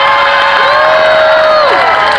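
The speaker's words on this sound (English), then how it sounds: "They're cheering for you right now." A large fair crowd at a hypnotist show cheers and whoops loudly and continuously, a dense wall of voices with a few rising shouts standing out.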